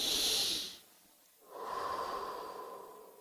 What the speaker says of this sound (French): on respire